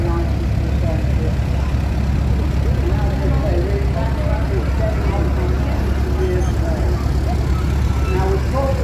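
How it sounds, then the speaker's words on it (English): A vintage W30 International American tractor runs steadily at a steam rally, its low continuous engine drone filling the whole stretch, with people talking nearby over it. "This is an American tractor, going very nicely presented."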